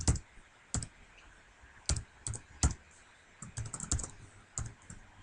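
Computer keyboard being typed on in short irregular bursts of sharp clicking keystrokes, close and fairly loud over a quiet room, with brief pauses between clusters and no voices.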